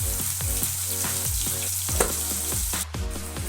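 Ginger, chili and garlic paste frying in hot oil with cumin and asafoetida for a spinach curry, a steady close sizzle broken by repeated scraping stirs of a spoon against the pan.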